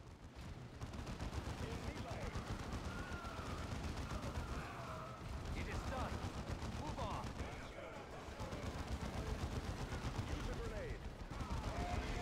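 Gunfire in the video game Dawn of War 2 Chaos Rising, a dense continuous battle of rapid shots and explosions filling the whole stretch at a steady, moderate level.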